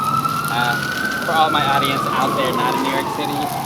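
Ambulance siren wailing through New York City streets, a sustained rising-and-falling tone heard steadily throughout, mixed with traffic noise as a person talks over it outdoors.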